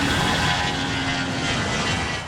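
A propeller airplane rumbles steadily at Tampa International Airport, a loud continuous broadband engine drone holding for the whole moment with no pauses.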